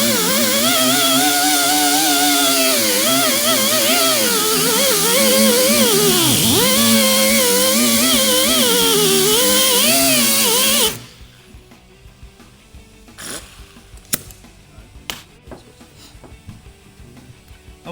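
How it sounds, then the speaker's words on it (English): An angle grinder runs loud and steady for about eleven seconds, swept quickly across a car's metal body panel while prepping a dent repair, then cuts off abruptly, leaving faint clicks and light handling noises. "Notice how I'm keeping that grinder moving kind of fast."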